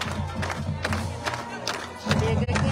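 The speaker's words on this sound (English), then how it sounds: "nice crowd" A large crowd gathers before a college football game, a dense steady roar of voices with scattered shouts and thuds, swelling louder near the end with no distinct talker.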